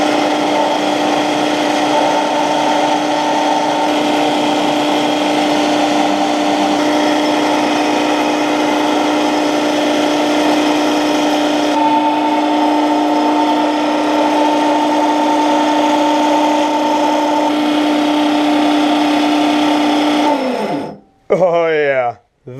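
Pen spinning on a wood lathe and buffed with Hut PPP Perfect Pen Polish, a carnauba-wax friction polish: a steady, loud motor hum with rubbing, held for about twenty seconds before the lathe winds down and stops.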